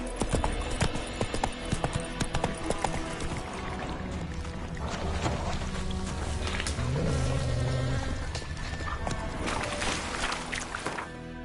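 Horse hooves gallop in The Witcher 3 (next-gen PS5 version): a fast, continuous clip-clop rhythm close up and fairly loud, layered over game ambience and scattered effects.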